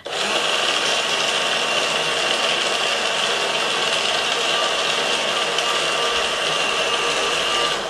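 A food processor spins an almond mixture, producing a loud, continuous motor whir with a gritty grinding edge that holds steady from start to finish.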